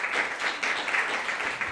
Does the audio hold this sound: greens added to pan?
no